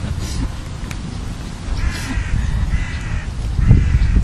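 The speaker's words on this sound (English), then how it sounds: "The crow has a question." Crow cawing outdoors, a few harsh repeated caws at moderate distance over steady low rumbling background noise.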